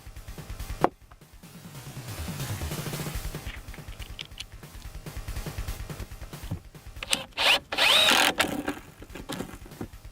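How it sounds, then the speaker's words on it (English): A power drill countersinks screw holes in a wooden board for a metal shelf rolling cart, with bursts of motor whine, grinding into the wood and a few knocks and clatters nearby, no talk. "It's not super crucial that I countersink these, but it'll be less likely to split the ends of the board,"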